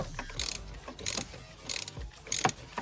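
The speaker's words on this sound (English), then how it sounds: "we're going to start off by slackening the oil filter housing lid" A 1/2-inch ratchet with a 27mm socket loosening an oil filter housing lid on a Ford Fiesta, four quick bursts of close ratcheting clicks separated by short pauses.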